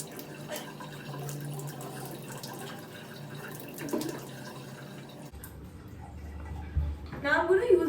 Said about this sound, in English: Now I'll wash this off